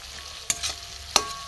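Potatoes and green peas being stir-fried vegetarian-style with ground cumin, coriander and grated ginger, a soft steady sizzle broken by two sharp scraping stirs of the spatula against the pan.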